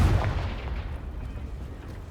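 A Confringo blasting spell in Hogwarts Legacy lands as a deep booming blast that rumbles and slowly fades over a couple of seconds, heard alone.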